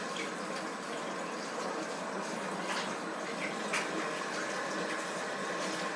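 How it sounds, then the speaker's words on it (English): Hands washed under a kitchen sink tap while baking whole wheat Irish soda bread, a steady loud rush of running water that continues without a break, close by. "I gotta wash my hands"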